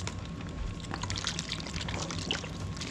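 Worcestershire sauce pours steadily in a continuous liquid splash and trickle, close up and moderately loud against faint kitchen hum, with no talking.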